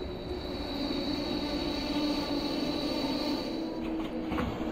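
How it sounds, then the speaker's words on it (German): A Berlin S-Bahn train pulling into a station in Train Simulator, a steady loud rumbling roll of wheels with a sustained whine, continuous and close, heard alone. "Und wir hören auch schon die S-Bahn Berlin einfahren."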